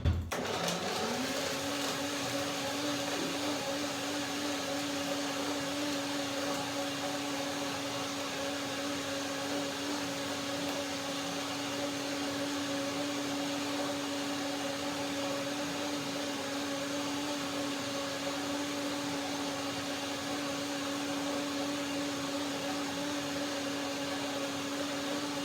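A kitchen blender runs steadily for the full stretch, mixing banana milk with water, its motor whine holding a constant pitch after a brief spin-up at the start, loud and unbroken with no voices.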